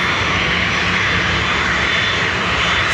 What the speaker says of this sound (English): So that Ryanair that took off was going to